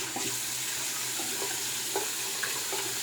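Water runs steadily from a warmed-up tap while shaving, a continuous close hiss with faint clinks and small splashes throughout.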